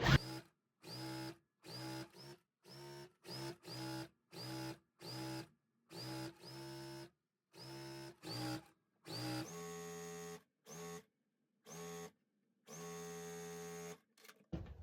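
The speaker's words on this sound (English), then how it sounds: "All right, so just sew this down." A sewing machine stitches jelly roll fabric strips in a steady series of short, evenly spaced whirring bursts with brief pauses between them, then a few longer runs near the end, close and fairly quiet, with no talking.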